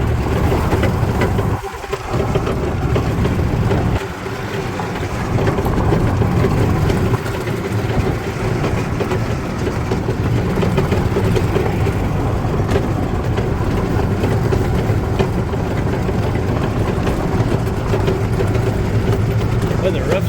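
A 2008 Yamaha Drive G29 golf cart engine with a blown head gasket runs steadily at idle after starting, a continuous low droning hum that stays level throughout, with some speech over it.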